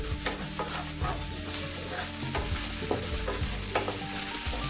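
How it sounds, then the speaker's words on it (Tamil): Thai basil chicken with jaggery and soy sauce sizzles loudly in a pan while being stirred, with steady frying hiss and repeated scraping strokes throughout. "சோயா சாஸ் போட்டு நல்லா கிளறிட்டேன்"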